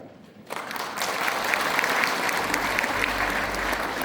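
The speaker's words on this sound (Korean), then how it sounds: "감사 큰 박수 부탁드리겠습니다." Applause from the audience at a book launch ceremony, with a full, steady round of clapping from a large hall crowd that starts suddenly and holds loud and even throughout.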